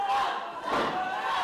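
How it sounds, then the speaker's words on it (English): A wrestling crowd chanting and cheering in a sustained, loud roar of many voices, rising and swelling in unison as they rally behind a wrestler. "This crowd trying to get their man back into this matchup."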